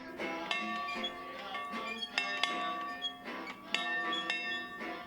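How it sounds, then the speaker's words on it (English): Church bells at St. Augustine Catholic Church in a Fort Worth neighborhood ring in a rich harmonic peal, with several clear strikes repeating every second or so and long sustained overtones blending together under faint background noise. "the bell rings at the church, everybody comes"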